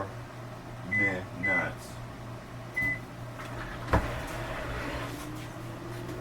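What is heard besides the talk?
microwave oven running at power level 9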